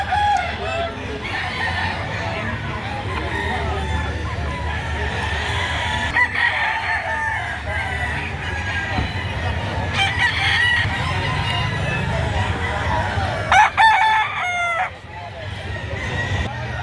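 Lemon sweater gamefowl at a poultry market in Lipa, Batangas, with roosters crowing repeatedly and hens clucking over a busy crowd hum and scattered voices.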